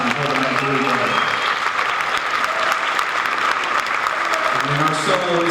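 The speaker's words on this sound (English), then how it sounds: "give it a round of applause for that rhythm section one more time" Audience applause at a jazz band concert, a loud sustained wash of clapping for the Latin-style rhythm section while the band's groove and a voice continue underneath.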